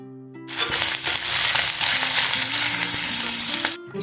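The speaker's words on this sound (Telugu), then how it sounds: "ఉల్లిగడ్డ ఫ్రై అయ్యేసరికి ఎల్లిపాయ కూడా బ్రౌన్ కలర్ అయిపోతుంది" Onion and garlic hit hot oil in a pan and burst into a loud, dense, crackling sizzle that holds steady for about three seconds, close up, then cuts off.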